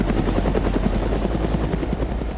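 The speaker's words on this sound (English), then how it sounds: "Helicopter's still on us." Helicopter in the video game Arma II DayZ, a loud, close rotor chop with a rapid, steady rhythmic thumping over a constant engine drone, heard on its own.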